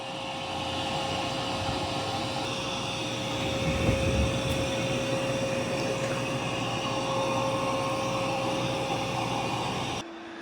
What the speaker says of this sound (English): Yep, it's doing a really good job of vacuuming.